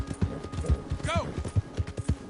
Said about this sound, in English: My horse! Am I glad to see you?